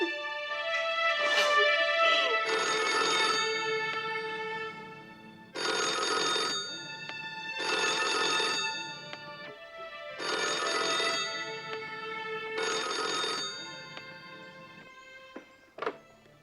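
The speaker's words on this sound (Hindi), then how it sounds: "इतनी देर तक फोन नहीं उठाया?" A telephone bell rings in repeated bursts of about a second each, with short gaps, fairly close and clear, and a knock near the end.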